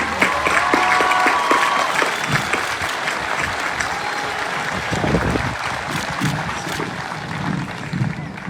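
Loud applause at a high school graduation ceremony honoring honor roll students, many hands clapping steadily from start to finish, with crowd noise and brief voices mixed in.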